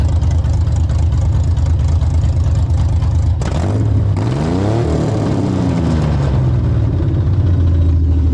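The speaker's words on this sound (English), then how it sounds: "Rev it." A car engine fitted with headers revs loud and close, a steady throaty drone that surges up in pitch midway, then settles back to a deep rumble.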